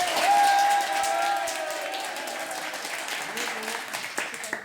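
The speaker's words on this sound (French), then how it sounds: "applaudissements s'il vous plaît." A live audience at a French comedy show applauds, with clapping and some cheering mixed with crowd noise, loudest at the start and then settling to a steady patter.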